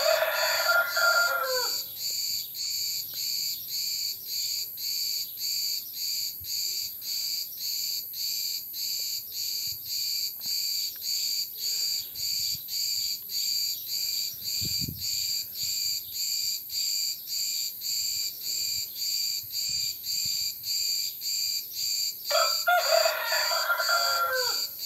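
A feather-footed rooster crows in long drawn-out calls at a village farmyard, with a steady chorus of crickets throughout and a brief rustle in the middle, no voices.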